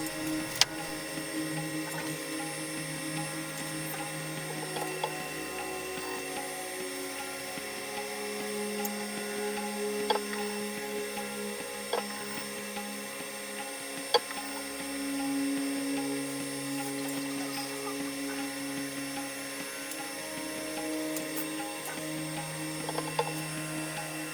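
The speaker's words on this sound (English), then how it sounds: "Final stage of polishing now with the Sterling high speed polishing lap and diamond powder." A high-speed polishing lap running as a ring is polished with diamond powder, a faint, steady motor hum with a tonal whine and occasional small ticks, no talking.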